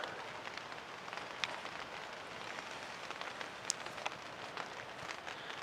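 Rain falls steadily on a cabin's cover outdoors, a soft, constant patter with occasional louder drips and ticks, fairly faint and with no talking.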